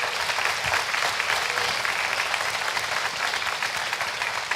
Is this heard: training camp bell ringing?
no